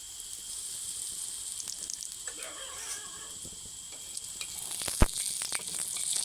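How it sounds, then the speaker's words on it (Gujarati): Bread soaked in batter frying in oil, a faint steady sizzle that grows livelier toward the end, marked by a sharp tap and a few small pops. "આ રીતની બ્રેડને પલાળી પછી આ રીતની મૂકી દેવાની તેલમાં"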